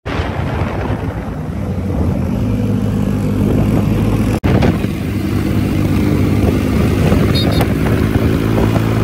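A motorcycle engine roars loud and close during a group ride with wheelies on the Shimla highway. The engine drones steadily and strongly with rumbling revs, and a brief cut breaks the sound midway.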